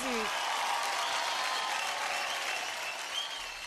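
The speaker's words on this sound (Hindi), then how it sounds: "एक बार जोरदार तालियां।" A studio audience at the Dance Plus 6 grand premiere claps steadily in dense, sustained applause throughout, with faint voices mixed in.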